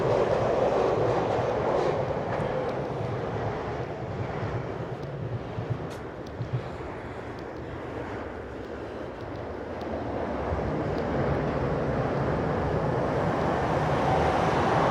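A train rumbles along railway tracks in Japan, a steady loud roar with faint clacking that dips briefly midway and swells again.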